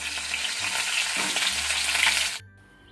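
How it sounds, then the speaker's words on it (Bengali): Fish frying in a pan for a cauliflower and potato fish curry, a loud, close, crackling sizzle with a low hum underneath that cuts off abruptly near the end. "আর এই দেখো, মাছ ভাজতে দিয়েছি।"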